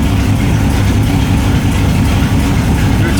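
An LS1 V8 swapped into a BMW E30 idles loud and close at around 600 RPM, giving a steady, deep, lumpy rumble that continues without a break.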